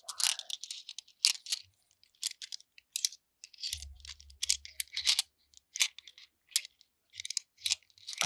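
Beads handled and rattled close up, a run of crisp clicking and clattering bursts in irregular clusters, quiet and dry, with no talking.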